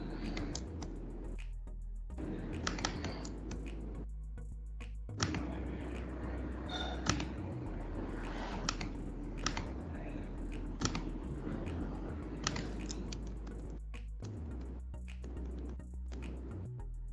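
Typing on a computer keyboard while entering an email address, quiet irregular clusters of key clicks with short pauses between bursts.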